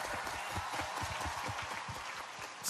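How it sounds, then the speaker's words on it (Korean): Studio audience applause on a Korean singing competition show: a steady, dense burst of many hands clapping at once, moderately loud and continuous for a few seconds, with a brief sharp lift right at the end and no talk. "박수 한번 보내세요."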